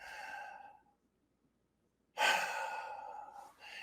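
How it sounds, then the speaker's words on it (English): Slow, deep breaths during a guided relaxation exercise: a long exhale fades into silence, then a fuller, breathy inhale-exhale follows close to the mic. "And another deep breath. And one more deep breath."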